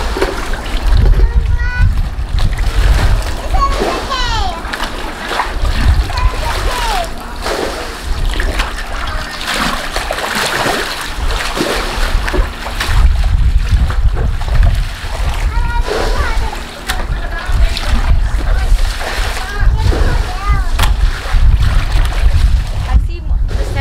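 Water being scooped by hand out of an inflatable summer wave pool, with repeated sloshing splashes at irregular intervals and people talking throughout.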